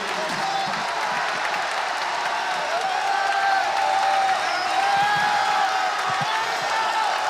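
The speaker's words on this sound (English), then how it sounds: "And a jacked up crowd at County Forum." Jacked-up arena crowd roaring at County Forum after a steal and two-on-one slam dunk in an NC State at Boston College men's basketball game, a steady sustained cheer with scattered applause and whoops throughout.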